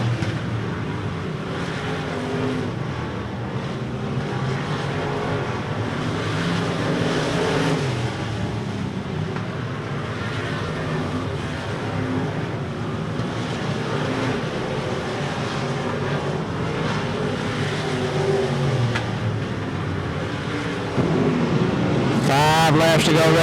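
Race cars lapping the oval at RPM Speedway in the closing laps of a feature, a steady continuous engine roar throughout under a track announcer's commentary, with a brief louder surge near the end.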